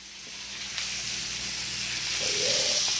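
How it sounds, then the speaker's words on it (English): Blackened chicken breast searing in a hot cast iron skillet, giving a steady, moderately loud broadband sizzle that swells slightly toward the end, with no voices. "Once we sear them, we're going to put them over to the side and set them in the oven."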